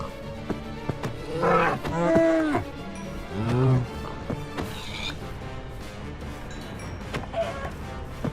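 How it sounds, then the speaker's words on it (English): Cows on a farm in a video game give several drawn-out moos in close succession, clear and near, then quieter game noises and soft clicks follow. "I decided to slay some of my cows and pigs from my farm."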